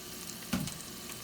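Whole black pepper and cumin seeds hitting a hot pan of oil for ven pongal, giving one brief crackling sizzle that rises suddenly, then fades back into a low steady background.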